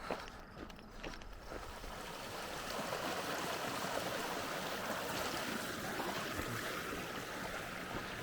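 A stream on the Continental Divide Trail between Grants and Cuba flows continuously with steady rushing water, a broad washing sound that swells slightly and holds at a moderate level with no talking.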